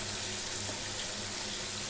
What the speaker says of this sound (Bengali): এদিকে মশলা কষানো হচ্ছে।